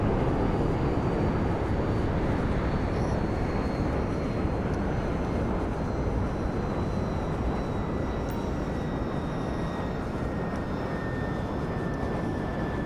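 Cargo plane stolen in a GTA game, flying with a steady, loud, broadband engine roar that holds level for the whole stretch, with no voices over it.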